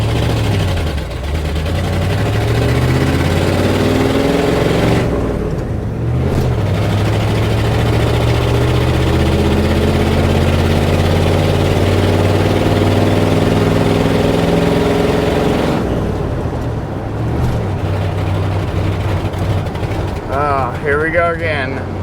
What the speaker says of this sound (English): Man, it's idling higher than it was before.